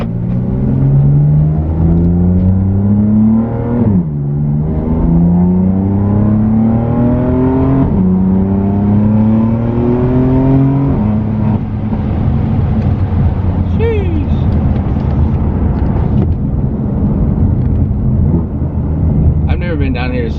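A catless BMW F80 M3 with a single mid pipe and open exhaust valves drones loudly while driving, the engine note climbing through gears with brief dips at each shift, heard from inside with windows cracked.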